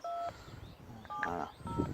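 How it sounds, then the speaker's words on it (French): Telephone keypad tones beeping close up as a number is dialled, several short steady tones in an uneven rhythm, with faint background sound between presses. "quand vous avez composé votre numéro de téléphone"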